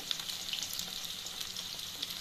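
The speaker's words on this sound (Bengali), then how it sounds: "আমি এটা দুবারে ভেজে নেব, একবার দিয়েছি" Chicken pieces frying in oil for chilli chicken, giving a steady, close, dense sizzle with fine crackling throughout and no talking.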